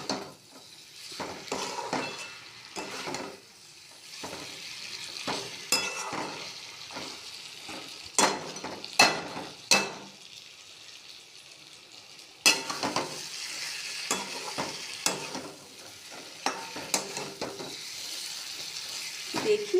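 Desi cauliflower frying in a pan while being stirred, close sizzling with repeated scrapes and clinks of the spatula against the pan in irregular bursts, moderately loud, no voices.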